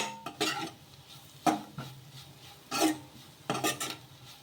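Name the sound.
stirring chicken masala into a curry in a pan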